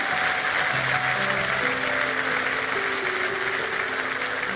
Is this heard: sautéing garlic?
no